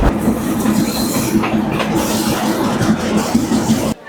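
Inside an empty carriage of a moving local train on the Lalmonirhat to Burimari line, a loud steady rumble with rattling clatter fills the carriage, then cuts off abruptly at the end.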